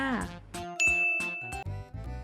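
A notification bell effect rings out, a bright clear ding with a lingering tone, set among short jingly musical chimes in a busy outro.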